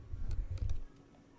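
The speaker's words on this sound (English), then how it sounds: "that's some typing" Typing on a computer keyboard, a short burst of several soft clustered key clicks close by, fading out after about a second.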